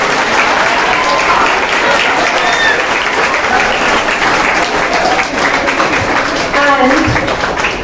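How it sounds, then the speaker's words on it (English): At a school declamation competition, the audience gives loud, sustained applause for the backstage team, dense clapping close and continuous, with faint voices mixed in near the end. "The team on the backstage, please a big round of applause for them."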